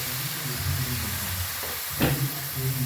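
Fish eggs frying in a pan with a little water added, a steady close sizzle and hiss with a brief stirring scrape partway through, no voices.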